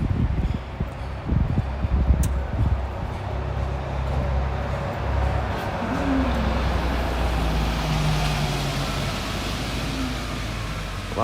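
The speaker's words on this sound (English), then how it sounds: "Lots of buses, lots of cars." Road traffic of buses and cars passing near the Heian Shrine gate in Kyoto at sunrise, a steady low rumble of engines and tyres with a few louder passes early on, heard from the roadside.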